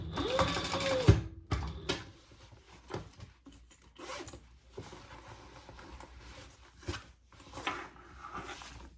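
Short bursts of sewing machine top stitching on a zippered crossbody bag, with rapid mechanical clatter, stops and starts, and handling noises of fabric close up.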